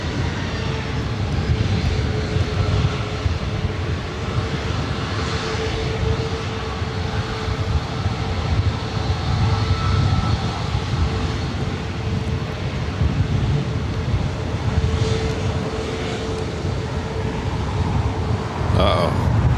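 Airplane engines roar steadily at LAX airport, a broad, continuous rumble with a sustained drone, loud and up close, with radio chatter and voices faintly mixed in.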